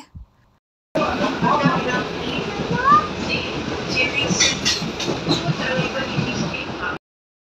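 A Chennai local commuter train rolls along steadily with a continuous rumbling roar and faint rattling of carriages, starting abruptly after a second of silence and cutting off near the end.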